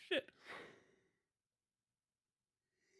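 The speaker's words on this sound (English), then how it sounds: "That was a real yawn." A tired man's long yawn, breathy and close, rising then trailing off over about a second, followed by silence.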